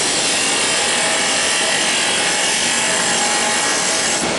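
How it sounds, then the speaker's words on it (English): Parting tool cutting into wood spinning on a lathe, giving a loud, continuous rasping scrape close by that holds steady and stops abruptly at the end. "I won't part it all the way off now, but I will take some of that out"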